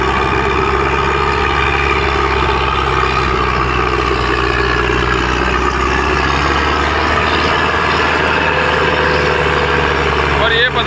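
An ACE DI 6565 tractor, a 65 HP model, drones loudly and continuously while pulling a big 11-tine tiller through a field, its engine a steady low rumble with no break.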